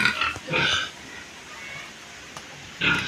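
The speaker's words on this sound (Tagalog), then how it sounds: "Yan po, lalaki ng baboy oh." Large pigs on a farm grunt in short, close bursts, a few separate snorting grunts with pauses between them and no talking over them.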